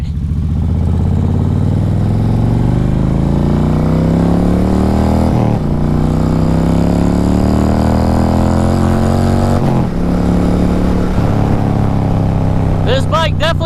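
A custom cholo-style bagger motorcycle engine roars up close and accelerates hard through several gears. Each rising pitch sweep ends in a brief dip at the shift, over steady wind noise.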